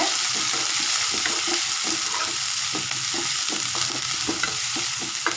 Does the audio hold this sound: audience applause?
no